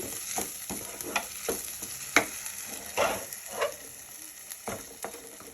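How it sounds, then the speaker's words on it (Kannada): Red chutney fries in oil in a pan, giving a steady close sizzle broken by irregular scraping stirs and soft clatters, with no voices. "ಈ ಥರ ಫ್ರೈ ಮಾಡಬೇಕೀಗ ಕೆಂಪು ಚಟ್ನಿ ರೆಡಿಯಾಗಿದೆ"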